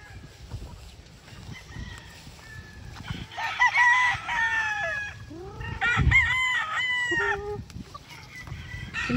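Gamefowl roosters crow on a farm among mixed breeds like Kelso and Claret, several overlapping crows nearby with soft clucking and faint background murmur.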